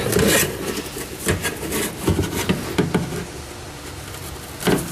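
A car computer module being pushed by hand onto two Velcro strips against a Jeep Scrambler's evaporator case, giving rough scraping, rubbing and knocking sounds in irregular bursts at close range.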